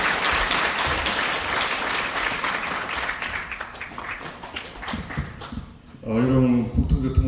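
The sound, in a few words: audience applause welcoming minister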